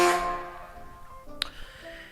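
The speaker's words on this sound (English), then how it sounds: "I'll give you a little horn honk for that." A horn honk sound effect blares at the start, a bright sustained tone that fades out over about a second, followed by quieter tonal traces and a short sharp click.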